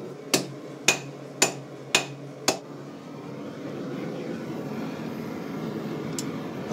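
A hammer strikes metal on an anvil while a knife is forged, five sharp ringing blows in a steady rhythm, close and loud, then a low rumbling hum of the workshop.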